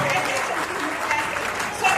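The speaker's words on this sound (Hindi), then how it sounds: "जोरदार ताली होनी चाहिए" An audience claps in strong, sustained applause, a dense patter of many hands that keeps going throughout, with a voice speaking over it.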